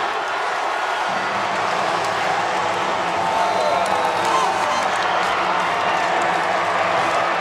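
A basketball arena crowd roars and cheers after an alley-oop dunk at a college game, a dense, sustained wall of noise with scattered whoops and clapping that swells slightly midway and holds throughout.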